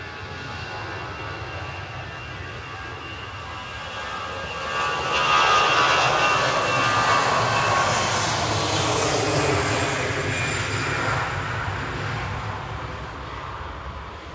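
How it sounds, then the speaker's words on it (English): Finnair jet departing Manchester Airport for Helsinki, a broad roaring engine rumble that swells to a peak midway and slowly fades as it passes, with no talk. "Finnair heading off to Helsinki there."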